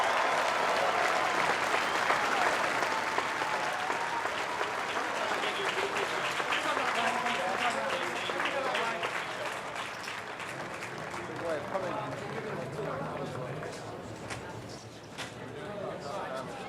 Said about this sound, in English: I'll let the crowd give you a good cheer to say goodbye